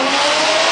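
Subaru Impreza drift car at a 2013 drifting competition at Lydden Hill, its engine revving loud, steady and close in a brief unbroken roar, with no talk.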